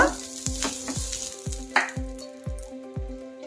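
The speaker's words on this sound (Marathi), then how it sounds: "तवा अगदी मस्त गरम झालेला आहे" A little oil or ghee spread on a hot griddle (tawa) sizzles in short repeated bursts, roughly two per second, each with a soft thump and a hissing tail. The sound is close and has no speech over it.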